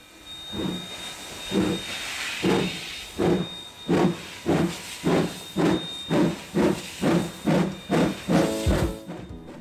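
An AB class steam locomotive, a heritage engine, chuffs in a steady rhythm of about a dozen strong exhaust beats while a continuous steam hiss runs beneath, loud and close with no talk.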